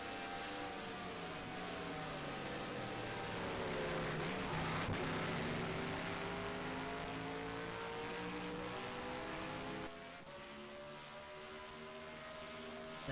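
Race truck engines at Watkins Glen International roar steadily, revving and shifting pitch as trucks accelerate past, with a brief dip in loudness near the end before the drone resumes.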